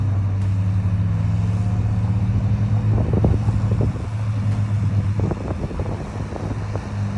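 A Toyota FJ strains in a winter storm to pull a stuck bus out of a snowbank, its engine a steady, loud low drone mixed with wind buffeting the microphone and no talk.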